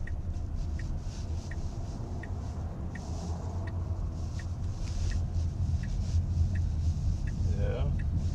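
A Tesla car drives along and makes a U-turn. Quiet engine-free road rumble and tyre noise run steadily under a person talking, with faint ticking clicks throughout.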